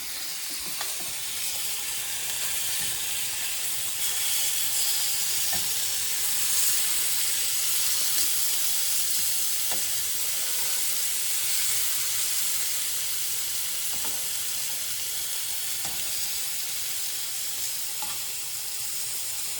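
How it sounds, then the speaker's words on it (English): Pork chops sizzle in a frying pan with a steady, loud hiss and crackle that holds on without a break, with faint scattered pops and no talk. "We're gonna turn the pork chops over."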